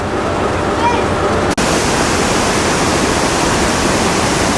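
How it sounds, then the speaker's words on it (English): The river running beside the town of Aguas Calientes near Machu Picchu gives a steady, loud, broadband rush of flowing water, broken by one brief dropout. "This is the river that runs right beside the town of Agua Calientes."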